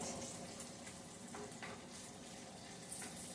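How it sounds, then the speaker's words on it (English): Bacon ends and pieces render their fat in a pan, giving a faint, steady crackling sizzle with soft pops scattered throughout. "bacon is very fatty. So that's what we're doing. We're rendering the fat."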